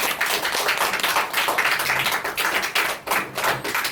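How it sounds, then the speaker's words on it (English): An audience claps for Aman, a student, at a question-and-answer session; dense, steady applause of many hands carries on for the whole stretch, close and fairly loud, with no voices over it. "A clap for Aman."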